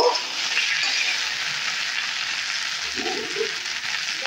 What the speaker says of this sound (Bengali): এখন আমি এটা আবারও একটু নেড়ে চেড়ে নেব।